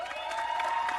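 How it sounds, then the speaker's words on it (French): A crowd at a dance competition show applauds and cheers for the best dancer, with scattered claps and whoops over a steady background tone. "Est-ce qu'on va applaudir pour lui?"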